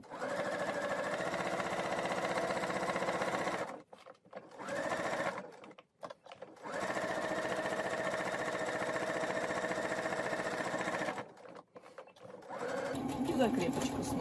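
A sewing machine stitches a Snezhka-style doll in rapid, steady runs. The motor whirs loudly in three long bursts separated by short pauses, with a faint click near the end.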